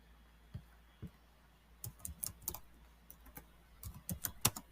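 Keys clatter faintly on a computer keyboard while Verilog test bench code is typed, irregular soft clicks that pick up into quicker bursts toward the end, with no voice.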